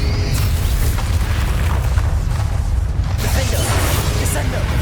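Booming magical blast from the Bombarda explosion spell in Hogwarts Legacy, a game played on PS5, with a dense, sustained roar of rumbling low end and crackling debris lasting the whole time, loud and close.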